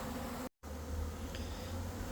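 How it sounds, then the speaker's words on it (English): A honey bee swarm buzzes close by in a continuous droning hum, broken by a brief dropout, with no voices. "so the bees are kind of going down, but they can't bridge the gap to the table"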